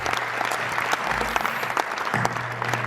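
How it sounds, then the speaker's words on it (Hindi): Audience applause at a Hindi comic poetry gathering, a loud, continuous wash of many hands clapping together that holds steady across the whole stretch. "एक बार मोदी जी के लिए पूरा सदन तालियां बजाकर उनका अभिनंदन करें"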